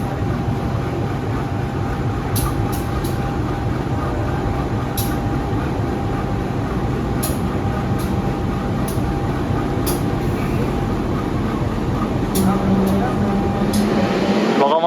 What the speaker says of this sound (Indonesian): Kahuripan resmi disusul sama kereta api Brawijaya